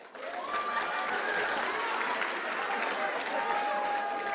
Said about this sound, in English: Give a round of applause to Allah subhanahu wa ta'ala.